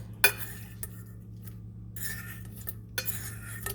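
Salmon bites tossed in a garlic parmesan mixture clink against a bowl with cutlery, giving a sharp knock followed by scattered light clatter and scraping, close and fairly quiet over a low steady hum.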